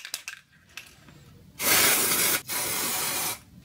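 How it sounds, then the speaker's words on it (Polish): Glitter spray hisses from an aerosol can onto a decorative star in two loud, steady bursts, the first about a second long and the second slightly longer after a brief pause, with faint handling clicks before. "Tą gwiazdeczkę spryskam jeszcze brokatem sprayu."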